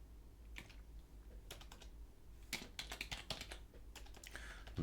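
Quiet clicks of keys on a computer keyboard as a terminal command is typed, with irregular bursts of keystrokes and short pauses.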